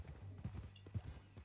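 A horse's hooves clip-clop in Red Dead Redemption 2, with several distinct thudding steps at an uneven walking rhythm over a faint background hum.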